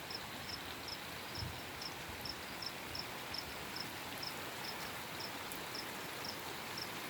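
Steady broadband hiss of heavy rain falling in a rural village, continuous and even, with a faint regular chirping insect-like ticking repeating throughout and no voices.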